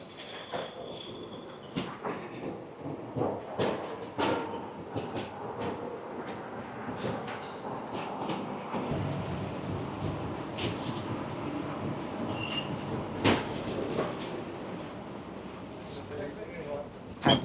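Delhi Metro train ride heard from inside a carriage: a steady rumble of the moving train under continuous chatter, with occasional clicks and knocks from the car.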